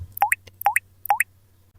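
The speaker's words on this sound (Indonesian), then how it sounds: "tetesan air yang terdengar begitu jelas" Three evenly spaced water drips, clear and close, each a sharp plop over a low steady hum in an otherwise still, quiet space.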